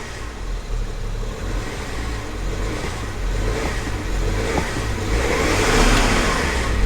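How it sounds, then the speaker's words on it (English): A car engine idles and then rises in pitch and loudness as the throttle is pressed during diagnostic scanning, a close, rumbling revving that swells toward the end. "Now we're going to touch the throttle down here,"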